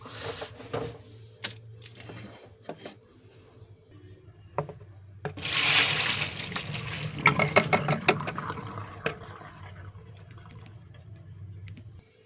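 Water gushes and splashes as steamed chow mein noodles are poured into a strainer basket, a loud rushing burst in the middle, then dripping and trickling, with no talk.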